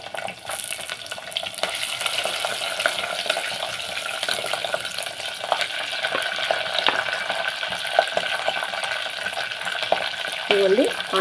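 Green chillies drop into hot oil in a pan while cooking a goat head curry, giving a steady, moderately loud sizzle and crackle that runs throughout, with light stirring clatter and a brief higher squeal near the end.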